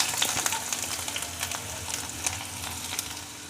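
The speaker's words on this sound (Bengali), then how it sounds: "এবার ফোড়নের মধ্যে দিয়ে দেব ছোট একটা পেঁয়াজ কুচি" Chopped onion sizzles in hot oil tempered with dried red chilli over medium flame while a spoon stirs, giving a steady crackling fry broken by light scraping taps.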